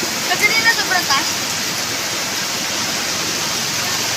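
Flash-flood water from Typhoon Carina rushes over a dike in San Isidro, Montalban, making a loud, unbroken broadband roar. A few brief voice-like sounds rise above it near the start.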